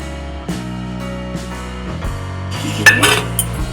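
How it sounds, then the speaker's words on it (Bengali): A spoon scrapes and clinks against a pan while stirring spiced, roasted-masala potato filling for homemade potato chops, with irregular metallic taps and clanks over a low steady hum. Louder clatter comes near the end. "ভালো করে নেড়ে চেড়ে নেব, ভালো করে মিশিয়ে দেবো।"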